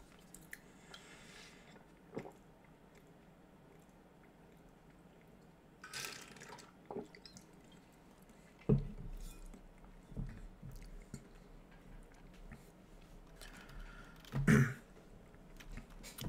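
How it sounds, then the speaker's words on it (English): A person drinks water, making faint, sporadic gulps and mouth sounds spread through a quiet room. "I need to drink some water."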